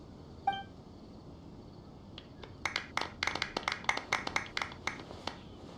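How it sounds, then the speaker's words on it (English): A crowd in Genshin Impact breaks into applause for the champion Kaveh, a patter of claps following a brief chime and gathering into a scattered round before thinning out, fairly faint. "Let's give our champion Kaveh one last big round of applause."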